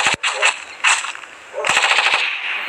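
Rapid gunfire in the video game Shadow Guardian, several loud close bursts of shots with brief gaps between them.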